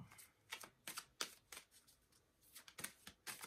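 Tarot cards shuffled by hand in a quiet room, with bursts of crisp riffling and flicking that repeat in an uneven rhythm and are heard close up but soft.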